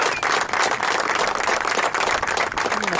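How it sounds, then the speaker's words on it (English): Soft, steady applause at an amateur golf championship final, heard from a distance outdoors for a few seconds, with wind in the background. "And applause from his opponent for 19-year-old Gavin Tiernan"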